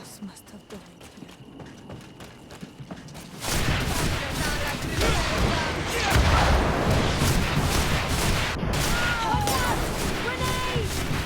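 A grenade goes off in GreedFall, a sudden loud blast that breaks in after a quieter stretch of clatter and leaves a sustained roar of battle noise with voices shouting underneath.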